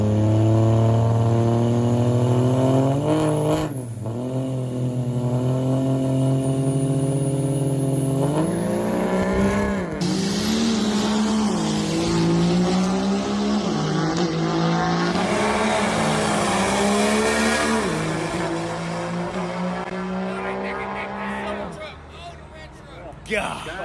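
Two pickup trucks launch in a drag race, engines roaring loud and close and winding up through gear changes, the pitch climbing and dropping repeatedly over about twenty seconds before fading as they pull away.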